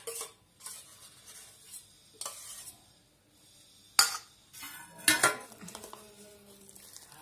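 A spoon stirs and scrapes a vegetable momo filling with ghee in a metal bowl, giving intermittent clinks and rubbing scrapes with a few sharper knocks, close and fairly quiet with no talking.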